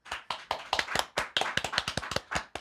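A small live studio audience at a podcast taping claps in scattered, crisp handclaps, irregular and fairly close, with no talking over them.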